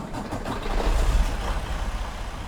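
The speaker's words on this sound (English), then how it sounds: "it is a modern Freightliner Cascadia with one of the Detroit engines" A modern Freightliner Cascadia truck with a Detroit engine in American Truck Simulator gives a steady, fairly shallow low rumble, held at a constant drone without clear revving.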